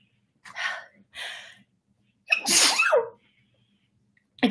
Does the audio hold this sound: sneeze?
yes